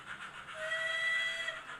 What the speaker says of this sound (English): I'll give you a little whistle there just because I like it.